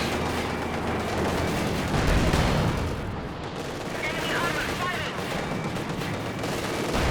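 In the video game Company of Heroes 2, tank cannon shots and heavy battle fire boom through a loud, dense mix of rumbling blasts, with a commentator's voice running underneath.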